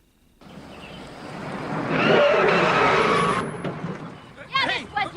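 A truck in the film Ernest Rides Again revs loudly and close for several seconds, with an air-brake hiss near the end. Voices and shouting break in over and after it.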